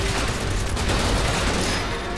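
Dense gunfire crackles through a Final Fantasy 7 Remake battle as a continuous loud volley of rapid shots with no pause across the short burst.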